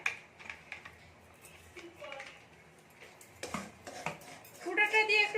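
Ground peanuts being stirred in a pan while making peanut laddu, a sequence of light scraping and clinking utensil knocks against the pan, fairly quiet and irregular, with faint talk in the background.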